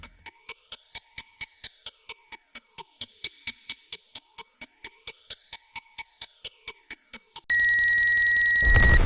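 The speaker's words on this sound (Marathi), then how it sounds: "घड्याळाप्रमाणे टिकटिकणाऱ्या त्या वस्तूकडे" A timer bomb found in a hospital in Pune ticks like a clock, with sharp, evenly spaced clicks about three per second. The ticking gives way to a loud, continuous electronic alarm tone near the end.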